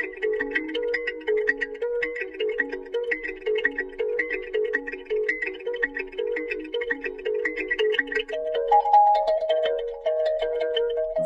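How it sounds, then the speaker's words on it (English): An mbira, the African thumb piano with metal teeth, sometimes set in a gourd for resonance, plucked in a repeating rippling pattern of bright, bell-like tones, close and continuous with no voices. "the mbira, an African piano with metal teeth, sometimes set in a gourd for resonance"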